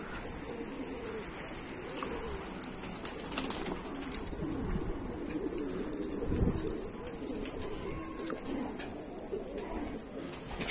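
Pigeons in a loft cooing in low repeated throaty calls, with occasional wing flaps and chirps amid a constant bright background hum, no speech.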